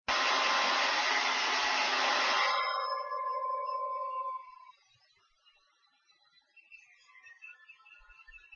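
A hair dryer blows steadily and loudly while drying a long-haired cat, then cuts off after a few seconds, leaving a fading whine and faint room noise.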